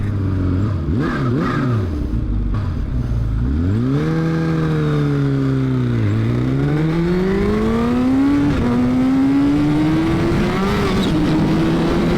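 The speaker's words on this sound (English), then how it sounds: "Keeping the revs up on the bike." High-performance motorcycle engine held at high revs during a 200 mph top-speed run, a loud continuous drone whose pitch dips, climbs and settles through gear changes, with wind rush around it.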